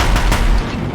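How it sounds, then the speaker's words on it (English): Heavy machine-gun fire from a Deathbringer war machine in the PS5 game Horizon Zero Dawn, a dense, loud continuous rattle with deep booming low end across the whole second, no voices. "If the Deathbringers keep firing"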